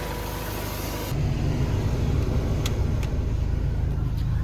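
A Honda Integra engine idling while burning off its coolant, a steady close mechanical rumble that steps up noticeably louder after the first second and then holds evenly, with no voices.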